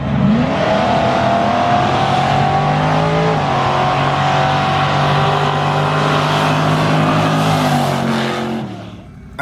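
A 2020 Ford Mustang GT launching down a drag strip: a loud, close engine roar that climbs steadily in pitch through the gears for several seconds before easing off at the end.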